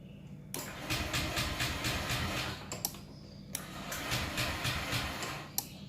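A car engine cranked by its starter motor on a weak, failing battery gives a steady, labored churning that runs on for several seconds, breaks off briefly and then resumes, loud and close.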